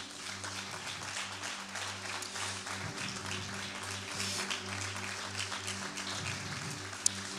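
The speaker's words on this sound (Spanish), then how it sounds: "Dar un aplauso, claro que sí." A church audience claps continuously in a dense, even wash of applause lasting several seconds, with a low sustained hum beneath and one sharp tap near the end.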